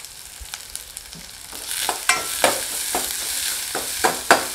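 Onion, green chili and curry leaves sautéing in a pan: a close sizzle under quick spatula scrapes and knocks that grow busier and louder partway through, with no one speaking.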